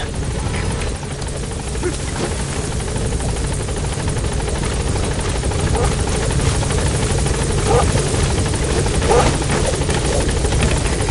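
A helicopter in the video game Metal Gear Solid V: The Phantom Pain thunders loud and close with a constant rotor roar and engine buzz for the whole stretch, with no talk.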